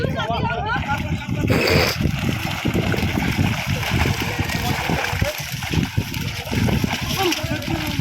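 A mother bails water out of a small fishing boat in the Sundarbans, producing steady, close splashing and sloshing throughout, with excited voices talking over it.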